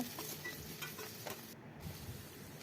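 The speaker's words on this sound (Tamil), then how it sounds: "வெந்தயம் போட்டு தாளிச்சிட்டு வெங்காயம் கருவேப்பிலை போட்டு நல்லா வதக்கிப்பாங்க." Onions and curry leaves sauté in sesame oil in a kadai after a fenugreek tempering, a quiet close sizzle with a few light stirring scrapes near the start.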